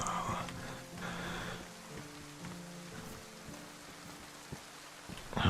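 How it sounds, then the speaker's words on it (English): Rain falling in the survival game DayZ, set on the Livonia map, a steady soft hiss of drops with faint tonal hums and a few louder knocks near the end, with no talking. "let's get out of the rain."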